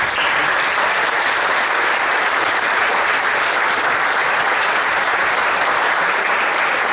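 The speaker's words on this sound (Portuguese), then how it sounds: "E por que não um aplauso para eles já agora?" Audience applause at a Portuguese Socialist Party presentation of candidates for the 2017 local elections, a loud, sustained and even burst of clapping from a large hall crowd with no voices over it.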